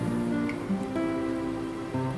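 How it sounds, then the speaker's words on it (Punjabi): Steady patter of rain on a surface, fairly soft and continuous, with a low tonal hum running underneath throughout. "ਬਾਰੇ ਤਾਂ ਮੀਂਹ ਪੈ ਰਿਹਾ ਹੈਗਾ"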